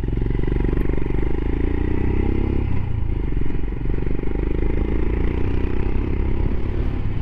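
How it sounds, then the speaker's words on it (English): A Royal Enfield Himalayan motorcycle exhaust rumbles loud and close in a continuous thrum, with a slight shift in engine note partway through and a clattering, scraping texture over the drone. "Oh, I love that exhaust."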